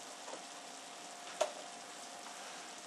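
Butter sizzles quietly in a pan while noodles cook, a faint, steady frying hiss with one brief click partway through.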